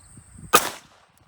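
A single sharp gunshot fires a .32 ACP round at a Swedish M37/65 steel helmet, a sudden crack with a short fading tail that stands out against quiet background noise.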